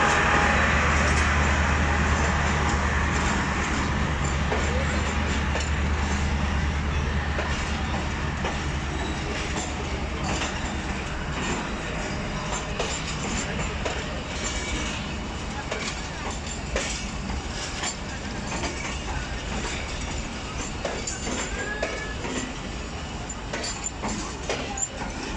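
Bahauddin Zakaria Express passenger train with its power van up front rolls along the rails, a steady close rumble with rhythmic wheel clacks and occasional squeals running the whole stretch.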